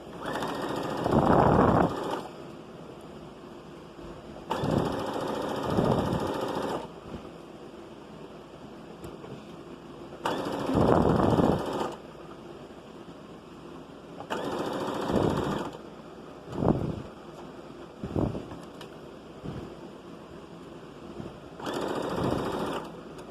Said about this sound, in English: then you pin them in place and then you top stitch them